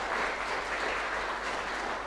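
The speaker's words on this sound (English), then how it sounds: "Please join me in applauding these two human rights activists." A crowd applauds two human rights activists at a Human Rights Day commemoration, a dense, even wash of clapping that holds steady throughout.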